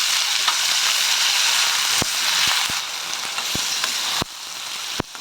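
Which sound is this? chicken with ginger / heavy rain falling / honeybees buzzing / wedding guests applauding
chicken with ginger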